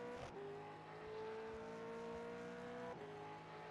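V8 race car engine held under heavy throttle in a racing video game, a steady, droning whine with harmonic tones that briefly dip and rise as it shifts, sounding fairly faint and continuous with no talk.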